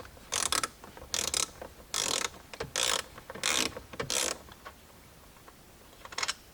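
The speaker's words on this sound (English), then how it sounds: "You'll use a 10mm socket and you'll simply loosen these bolts." A ratchet fitted with a 10mm socket loosens bolts on a 2013-2018 Lexus IS/RC, giving several bursts of rapid close clicking separated by short pauses, with no talking.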